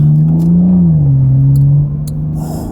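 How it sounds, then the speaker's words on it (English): BMW M240i with a B58 engine and a straight-piped, free-flow downpipe exhaust idling with a deep, steady drone that rises slightly, then settles lower; loud and close, with no talk. "this car is like fully straight piped, fully unrestricted exhaust setup."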